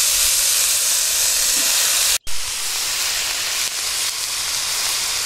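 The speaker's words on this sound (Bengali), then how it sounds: "একটু তেলে কষিয়ে নেব।" Fig curry with turmeric sizzles in hot oil, a steady bright hiss that cuts out for a moment and then carries on evenly.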